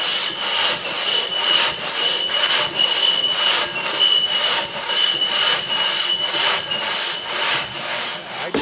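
A hand saw cuts quickly through a 21 to 22 inch log at a timber sports event, a steady run of close, loud rasping strokes in fast rhythm, with no talking.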